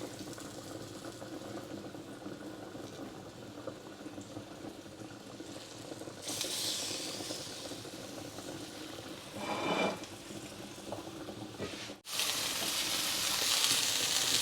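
Fish sizzles in a hot oiled pan, a soft, steady crackling hiss that swells louder toward the end.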